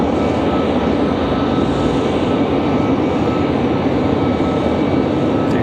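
A CRJ regional jet at Raleigh-Durham International Airport sends out a loud, steady broadband engine roar, close by and unbroken for the whole stretch, with no voices over it.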